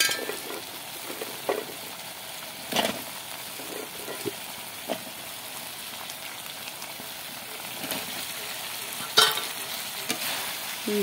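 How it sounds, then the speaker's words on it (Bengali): Spiced curry masala with potatoes stirred in a pan, a low continuous sizzle with occasional spoon knocks and scrapes against the metal, close and unaccompanied by speech. "ভালো করে নাড়াচাড়া করে নেব।"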